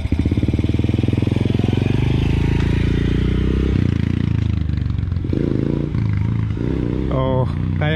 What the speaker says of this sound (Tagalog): magsasanay daw si Rin yan mga kanaypi na magmotor